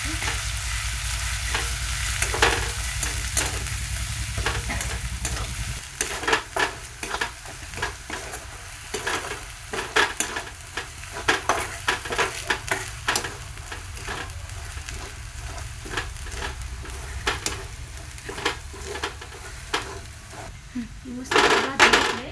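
Garlic and grated coconut sizzle in a hot pan while a spoon stirs and scrapes with frequent metallic clinks, a steady frying hiss running under the scraping.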